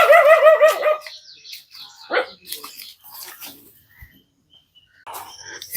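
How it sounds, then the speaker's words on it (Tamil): Two puppies let out a burst of high-pitched yapping barks at the start. After that come only scattered faint chirps and small noises, with long quiet gaps. "ரெண்டு நாய்க்குட்டி."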